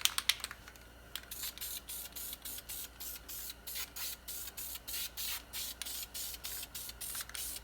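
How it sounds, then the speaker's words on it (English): An aerosol spray paint can hisses in a steady series of short, evenly spaced bursts, close and fairly loud, with no voices, during a Dodge Neon front wheel bearing replacement. "I really like this Crayon dual spray paint"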